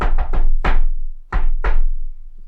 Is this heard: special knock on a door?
yes